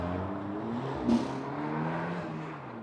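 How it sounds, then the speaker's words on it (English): A car engine gives a throaty, low, harmonic-rich drone at moderate distance, holding steady with a brief rise in the middle, with no talking over it. "that is a very throaty engine note"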